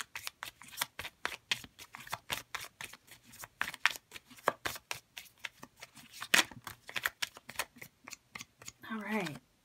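Tarot cards being shuffled during a reading: a long series of crisp, rapid card snaps and riffles, close and clear, with a voice briefly heard at the end.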